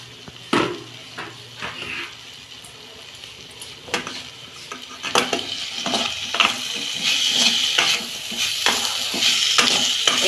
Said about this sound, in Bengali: এটাকে আমি একটু ভাজা ভাজা করে নেব।